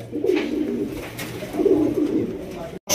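Pigeons at a Bengali pigeon seller's loft give low, rolling coos, a few overlapping calls close by, with a brief drop to near silence near the end.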